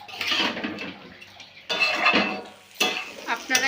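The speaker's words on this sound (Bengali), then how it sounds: "এরপর এতে আমরা ভেজে রাখা আলু ও এঁচোড় দিয়ে দেব। আমরা ভালোভাবে মিশিয়ে নেব।" Fried potato and jackfruit being mixed in a pan give a run of scraping, clattering stirring strokes with faint sizzle, arriving in bursts with short pauses between them.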